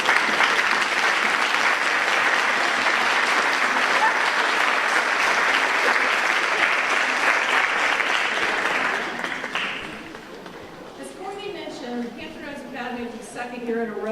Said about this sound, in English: so we can all give you a round of applause